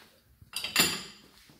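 Plates set into a dishwasher rack, a couple of close clattering ceramic knocks followed by a brief rattling scrape, then quiet.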